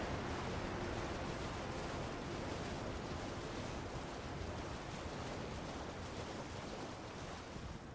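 A waterfall in the video game Elden Ring: Shadow of the Erdtree pours out a steady, loud, broad roar of water that holds almost level from start to finish.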